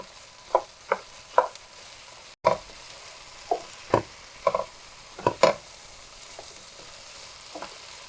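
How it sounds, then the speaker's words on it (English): Tomato paste sautéing in a pan for a vegan Persian eggplant dish: a soft background sizzle broken by about a dozen sharp scraping stirs, close and irregular, with no talking. "Just saute a little bit to bring the colors up."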